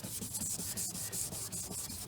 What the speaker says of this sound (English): You're going to need some water, of course, and you're going to start sanding